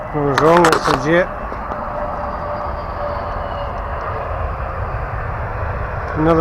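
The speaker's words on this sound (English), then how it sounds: "I was wrong, it's a jet." A jet airliner passes overhead near an airport runway, a loud broad roar sustained across the whole stretch, with a brief burst of talk at the start.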